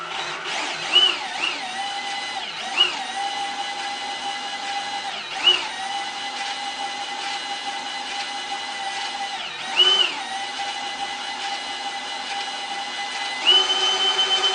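A homemade belt sander with a sanding belt on a 12 mm shaft runs with a steady, close, high mechanical whine, broken by periodic louder thumps and surges as the belt turns.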